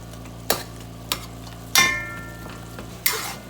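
Meat browning in a pan for lasagna, a low continuous sizzle broken by four sharp spatula knocks and scrapes against the pan, close and fairly quiet.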